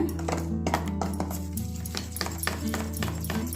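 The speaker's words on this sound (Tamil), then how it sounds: "இதுவும் போட்டு நல்லா மிக்ஸ் பண்ணிக்கோங்க." Sugar and salt mixed in a bowl for stovetop tea biscuits, with a spoon scraping and clinking against the bowl in quick, uneven strokes close by.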